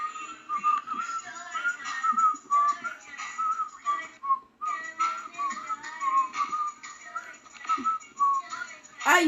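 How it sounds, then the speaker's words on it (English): A person whistles a lively tune alone, a clear bright melody of short and held notes with one brief pause midway. "Let's see if I can whistle."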